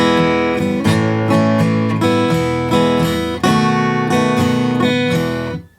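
Guitar strumming an E-position chord sequence, bright ringing strums in a steady rhythm over about six seconds, played alone and fading at the close.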